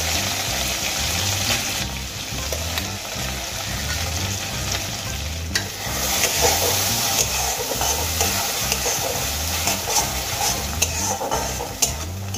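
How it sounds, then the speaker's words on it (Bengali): Ground prawn-head paste frying and stirred in hot mustard oil in a kadai, a steady loud sizzle with rhythmic stirring scrapes throughout. "এবার এই গরম তেলের মধ্যে আমি পেস্ট করে নেওয়া চিংড়ি মাছের মাথাগুলো দিয়ে দেব।"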